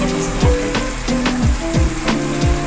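Arbi and potato pieces fry in a pan for masala aloo arvi as tamarind paste goes in, giving a steady close sizzle broken by several sharp bursts of hissing roughly every half second, with a low constant hum beneath.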